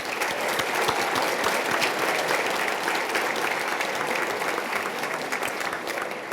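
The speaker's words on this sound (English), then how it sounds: "Can we please give a round of applause to our final group of nominees?" An audience at an award ceremony breaks into sustained applause, a full, loud crowd of hands clapping continuously for several seconds before easing slightly.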